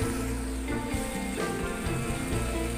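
Four to five finely chopped onions sizzling as they fry in a pan for chicken Lahori, a steady, dense crackle and hiss that runs unbroken throughout, with faint stirring knocks underneath.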